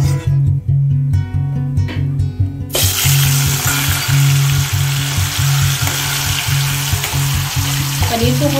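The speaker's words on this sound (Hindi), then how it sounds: "दूसरे पैन में हमारा रिफाइंड ऑयल गर्म हो गया और अब इसमें हम पनीर को फ्राई करेंगे।" Paneer frying in hot refined oil in a pan, a steady loud sizzle that starts at once and carries on without pause, with a low rhythmic hum running underneath.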